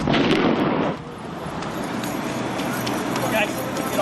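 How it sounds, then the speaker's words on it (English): Gunshots ring out during a police standoff that turned into a gunfight with officers, spilling into a parking lot; loud, dense impulsive bursts open the scene, then ongoing noise and voices continue. "A 6-hour standoff turned into a gunfight with officers"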